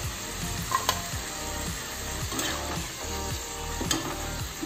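Potato french fries deep frying in hot oil, a steady bubbling sizzle with occasional soft clinks and scrapes of a spoon or strainer, close and continuous without any voices.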